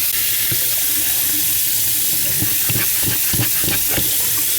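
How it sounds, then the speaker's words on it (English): Hot water runs and gurgles into a clogged hand sink drain backed up with liquid hand soap, a steady close wash of flow with irregular sloshing bursts and no talking. "Gotta get that hot water down in there and give it a good flush."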